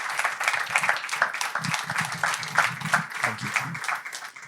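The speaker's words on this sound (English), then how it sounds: "let's have a quick round of applause for these guys before we go into Q&A." An audience gives a round of applause to startup founders at a business talk, a steady patter of clapping heard just under a voice speaking briefly.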